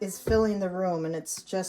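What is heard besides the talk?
No distinct noise like a dog, phone or traffic.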